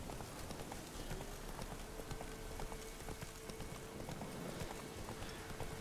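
Hooves clip-clop at a steady trot from the horse Roach in The Witcher video game. The rhythm is quiet and continuous under a soft, rain-like background hiss.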